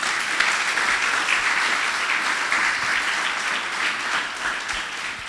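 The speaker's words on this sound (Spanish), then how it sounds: "Dele un aplauso al Señor." A church congregation applauds steadily, a dense wash of many hands clapping at once, sustained and fairly loud throughout.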